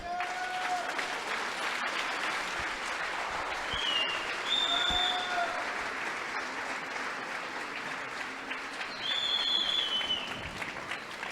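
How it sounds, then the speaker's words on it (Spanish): A church congregation claps steadily as an offering of applause during a sermon, the sound fairly soft and evenly sustained, with faint scattered high tones and a brief knock heard through it. "denle una ofrenda de palmas"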